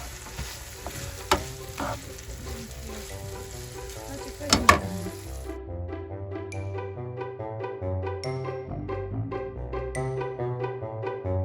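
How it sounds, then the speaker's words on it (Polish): Scrambled eggs frying in a pan for breakfast inside a camping caravan at Camping Stobreč near Split, Croatia: a steady sizzle under background music for about five seconds, then the music carries on with the sizzle faint beneath it. "Robimy małą jajecznickę jajeczniczkę na śniadanko."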